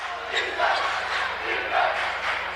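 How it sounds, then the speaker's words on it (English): A crowd in a gym at a boys' varsity high school basketball game cheering and yelling in rising and falling waves, loud and sustained with no clear talk over it. "getting this crowd fired up, as you can hear now"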